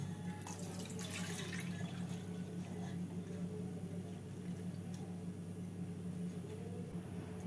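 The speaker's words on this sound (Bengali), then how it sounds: "এবার এই চালটা জল ঝরিয়ে নিচ্ছি।" Water running and splashing steadily as soaked rice for paneer pulao is drained, a continuous close wash of trickling with a low hum underneath, a brief louder pour near the start.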